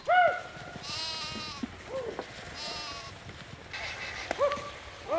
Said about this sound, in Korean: 돌이 많은 계곡이 나오자 당황한 양 염소들이 우왕좌왕 갈 길을 잃은 겁니다.